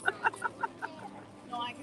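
A loud, unidentified bird gives a fast series of about six harsh, clucking calls, then a shorter, trailing call, up close and alone outdoors at the EPCOT Flower and Garden Festival.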